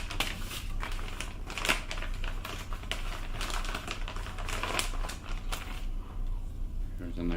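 Packing material crinkling and rustling during an unboxing of a Cutco knife set, dense crackly bursts close to the mic, steady for several seconds.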